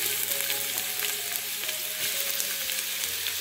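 Chopped onion frying in hot ghee and oil in a pan, a continuous close sizzle with crackling pops and occasional stirring scrapes.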